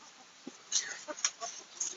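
A few soft, brief chicken clucks close by, scattered over a quiet moment with faint background noise.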